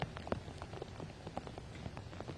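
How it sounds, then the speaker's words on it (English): Heavy rain pours down steadily on an outdoor disc golf course, a dense, even patter of drops with no voices. "where the rain has really opened up"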